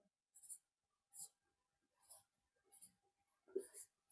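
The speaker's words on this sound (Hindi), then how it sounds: "तो हम इसकी परिभाषा लिखते हैं" Five short scratchy bursts of pen or chalk writing out a physics definition come one after another with quiet gaps between them, close and faint, with no talk during the strokes.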